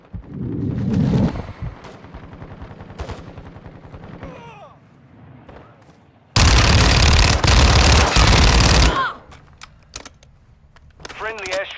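Gunfire in Call of Duty: Modern Warfare II's DMZ mode: a dense, loud burst of automatic fire lasting a couple of seconds, set between scattered single shots and voices talking over radio chatter.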